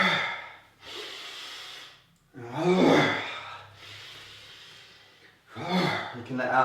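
A person breathing audibly through a qi gong routine, a few long, forceful exhales with a voiced, sighing edge, separated by brief quiet inhales, close to the microphone.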